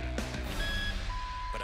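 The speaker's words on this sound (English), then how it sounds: "Bad beep quickly brings her checkout to a standstill." A checkout scanner gives a short electronic error tone in a played clip, a clear thin beep over background noise.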